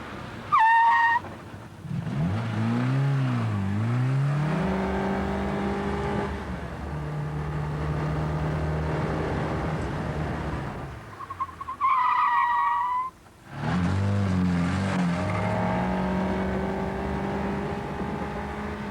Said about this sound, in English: The car accelerated and braked a number of times to make the effect show clearly.